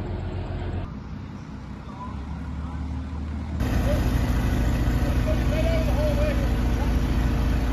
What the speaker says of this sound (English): I got in reverse, trying to wash some of the mud from underneath the boat.